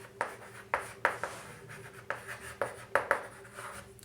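A pen scratches out an equation by hand on paper in a maths lesson, with a series of short, sharp strokes at an uneven rhythm. The sound is close but quiet, with no speech over it.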